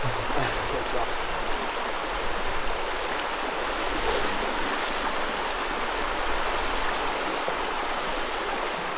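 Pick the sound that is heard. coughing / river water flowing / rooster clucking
river water flowing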